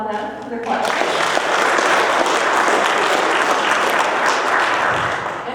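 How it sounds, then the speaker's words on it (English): An audience at a county debate held with college students breaks into steady, sustained applause that fills the room for several seconds after a brief quiet start. "I'd like to applaud them for their questions"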